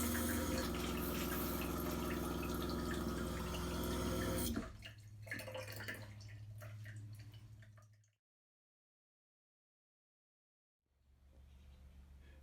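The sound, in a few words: shower water running into the shower pan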